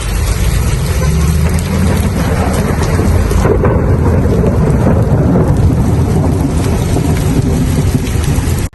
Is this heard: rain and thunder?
yes